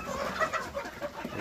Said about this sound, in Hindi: यहाँ पे सिर्फ मुर्गा है और कुछ मुर्गियाँ है